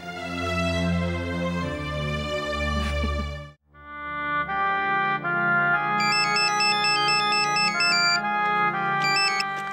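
A loud electronic ringtone melody plays, cuts out for a moment, then carries on with higher, chirping beeps layered over the tune.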